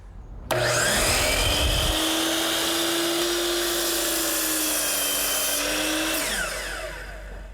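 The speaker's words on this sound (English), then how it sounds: "turn the saw on, let it come up to speed, cut all the way through" A power saw spins up and cuts straight through a wooden stair handrail, giving a loud, sustained whine with a steady tone that ends in a wind-down. A brief low rumble comes at the start.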